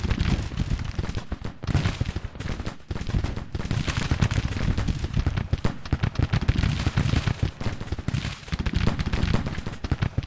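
Dense, continuous volleys of massed Civil War brigade rifle fire in the strategy game Grand Tactician: The Civil War, crackling shots overlapping in a steady roar with slight swells, loud and without pause for the whole stretch.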